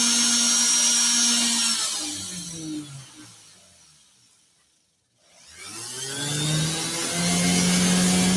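A power sander grinds the lip of a brass NYC subway token being made into a ring, a loud, close, steady whine that fades to near silence midway, then spins back up to full strength.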